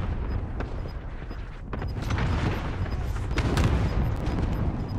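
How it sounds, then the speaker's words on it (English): Heavy barrage of game explosions and gunfire in Call of Duty, repeated booms and sharp cracks rolling one over another, loud and dense throughout with no speech. "God, there's so many explosions."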